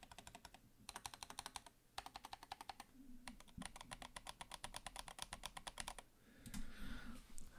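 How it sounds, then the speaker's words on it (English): A rattly computer keyboard space bar is tapped in quick rhythmic bursts, several separate runs of clicks with brief pauses between them, close and fairly quiet. "Here's the space bar. And I know that's more rattly than most people like,"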